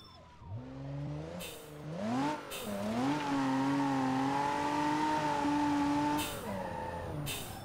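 A BMW 3 Series in BeamNG Drive screams near its top speed, the engine note climbing through gear shifts then holding a loud, steady high-rpm drone.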